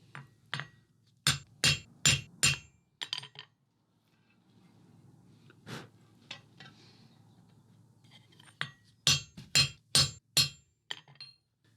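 Hammer blows on hot metal at an anvil during forging of a face with eyes for a Viking longship keel, ringing in two rapid bursts of about six strikes each, with a few scattered taps and a low rumble between.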